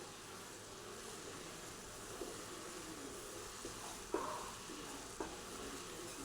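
Coconut laddu mixture being stirred with a ladle in a pan, a steady soft sizzle and bubbling with a few light scrapes and taps of the ladle against the pan.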